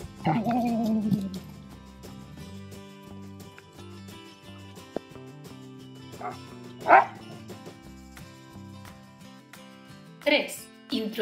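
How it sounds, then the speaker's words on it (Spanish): A dog barks and yips in short bursts at its toy, with a few sharp barks spread through the clip over a steady, moderately loud background of other sound. "Y solo cuando ladre,"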